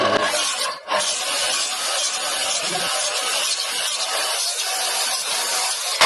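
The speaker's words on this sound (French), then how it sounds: "Il faut envoyer un trait de scie" Continuous rasping of a hand saw cutting through wood, dense and close, with a short pause near the start.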